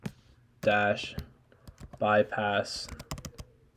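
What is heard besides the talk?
typing a command on a Mac keyboard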